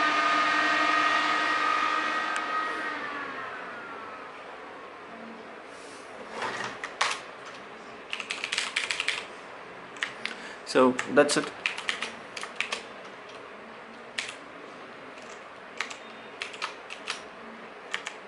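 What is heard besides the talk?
typing on computer keyboard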